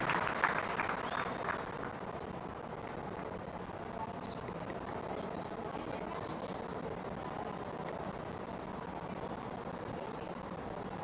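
A large crowd at a BRS political rally in Nalgonda applauds a speaker, producing a sustained, distant wash of clapping and cheering that begins a little louder and then holds steady.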